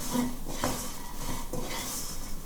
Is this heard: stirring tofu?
yes